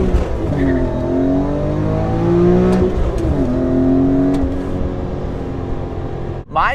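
Supercharged BMW E39 M5 with an ESS VT560 kit, 560 horsepower, pulling hard in third gear after a downshift; a loud, close engine note climbs steadily in pitch, dips briefly at a shift, then rises again.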